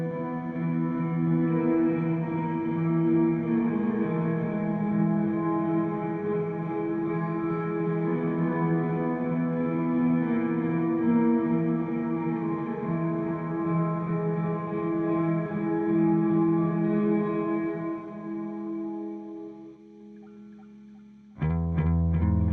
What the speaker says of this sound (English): Got a reverb added and a chorus.